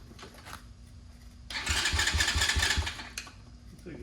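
An electric starter cranks a 141cc big bore motorcycle engine with noticeable compression, a loud rhythmic chugging burst of roughly a second and a half rising out of quiet background, then cutting back off.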